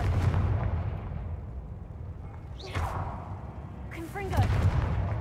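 Confringo spell blasts in Hogwarts Legacy, a pair of booming explosive bursts rising over constant low game rumble, one at mid-clip and a heavier one near the end, with faint voice-like tones around them.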